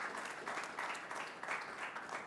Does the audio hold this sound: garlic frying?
no